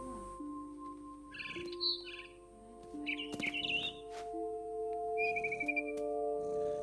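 A frightened bird chirps in What Remains of Edith Finch, short bursts of high twittering calls repeated three times over sustained tonal game music, fairly faint and with no speech.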